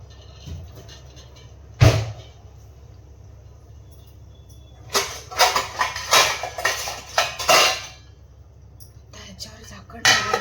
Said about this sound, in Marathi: त्याच्यावर झाकण ठेवून देऊया आता आपण